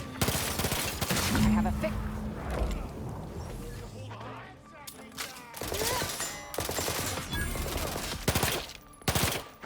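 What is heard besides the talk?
gunfire in the video game The Outer Worlds 2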